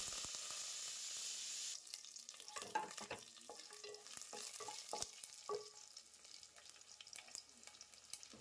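A tempering of cumin, mustard seeds, lentils, dried red chillies, garlic cloves and curry leaves fries in hot oil with a bright hiss, then quieter crackling and spluttering, with irregular stirring clicks and pops up close.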